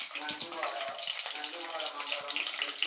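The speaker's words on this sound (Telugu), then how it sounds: "అది 1 నిమిషం ఆయిల్లో ములక్కాడలు ఫ్రై అవుతూ ఉంటే" Drumstick pieces fry in hot oil with curry leaves and cumin, giving a soft, steady crackling sizzle with scattered pops, faint and close, while a voice talks quietly over it.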